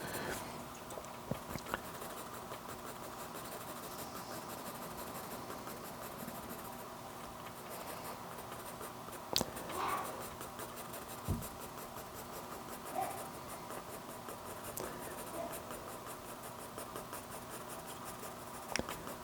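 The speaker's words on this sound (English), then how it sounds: "Keep that pencil going vertical, and that will help make it look like tree shapes rather than just hatch marks." A pencil hatching vertical strokes on sketchbook paper to fill in trees in a mountain scene, a soft, continuous scratchy rasp close to the microphone with a few sharper taps.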